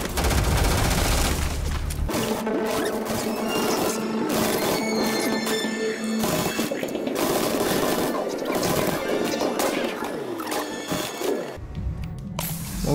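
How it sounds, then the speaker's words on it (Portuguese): Gunfire in the space-exploration video game Starfield, with dense, loud shots and sustained bursts. A music bed plays under them and the combat runs continuously without pause. "E agora vamos atirar."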